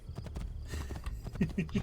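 Hooves of a horse clip-clop in Assassin's Creed 2, a steady run of hoofbeats up close, with a voice talking over them.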